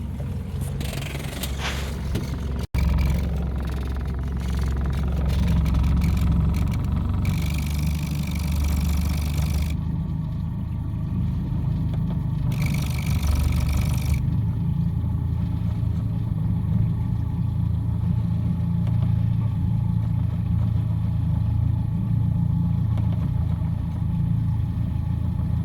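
An outboard motor runs steadily for the whole stretch as its RPM is adjusted, with a low mid-pitched drone close by and brief shifts in tone, alone without talk.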